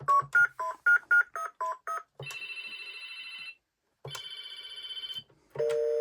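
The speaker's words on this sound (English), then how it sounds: "Of course, you have random phone noises." Toy phone on a 2006 VTech Grow and Go ride-on toy plays a rapid run of electronic dialing beeps, then two sustained ringing trills separated by a short pause, ending with another steady electronic tone.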